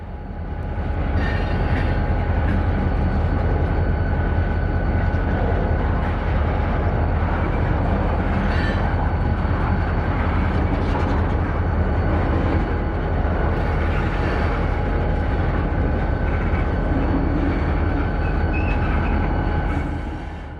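A freight train carrying many ethanol tank cars rumbles steadily past in winter, loud and close, with continuous rolling wheel noise and metallic squeal for the whole stretch.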